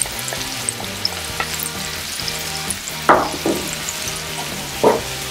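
Mango sauce with added plain water in a pan, a sweet and sour sauce, cooks with a steady close sizzle and bubbling, broken by a few louder stirring scrapes near the middle and end.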